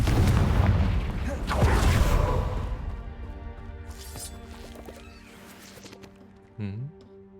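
A Confringo fire spell explodes in Hogwarts Legacy on PC: a loud, booming blast with crackling debris that rumbles on and slowly fades, followed by a brief, sharp magical tone near the end.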